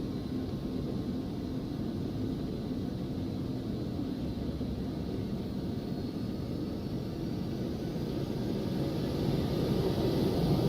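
Steady, loud roar of a Phenom 300's twin jet engines at takeoff power in X-Plane 11, a continuous broadband rumble and hiss that swells slightly toward the end, with no talk over it.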